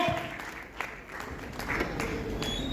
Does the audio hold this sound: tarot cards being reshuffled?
no